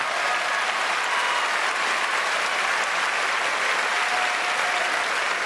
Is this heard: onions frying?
no